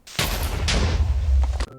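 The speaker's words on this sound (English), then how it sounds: "There were 2 explosions, meaning the first one scattered all my items, killing me, and the second one blew all my items up" Two loud Minecraft creeper explosions in quick succession, each a sharp booming burst with a crackling roar that decays before the second blast hits, followed by a brief drop to quiet.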